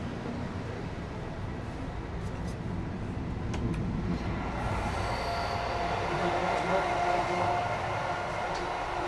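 Steady rumble and rattle inside a moving train car in Washington DC, continuous and fairly quiet, with faint metallic squeaks and a brief muffled voice.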